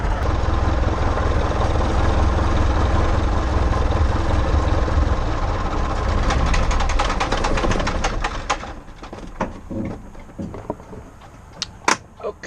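An engine idles steadily for about eight seconds as it warms up, a dense, loud rumble that then cuts away to quiet, broken by a few scattered clicks and knocks.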